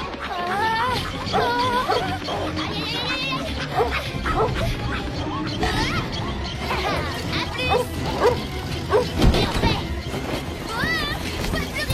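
Several dogs in an animated film bark and yip excitedly in a continuous, close, noisy chorus, with whimpering mixed in and voices talking underneath.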